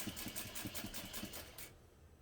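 A sewing machine top-stitches along the folded edges of fabric, its needle chattering in a quick, steady rhythm for about a second and a half before stopping, quiet and fairly distant.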